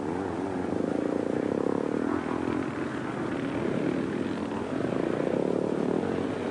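Motocross motorcycles, a 250 Greaves and a 440 BSA, race past on a 1960s British track, their engines a continuous rasping buzz that surges and dips as they go by, with no speech.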